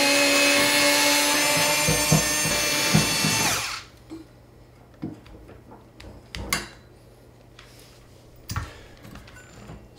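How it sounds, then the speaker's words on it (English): An electric screwdriver whirs loudly for a few seconds while removing the legs of an IKEA table, then cuts off, followed by scattered clicks, knocks and handling of parts in a quiet room. "Electric screwdriver."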